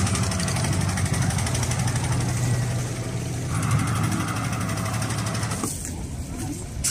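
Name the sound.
fishing boat engine running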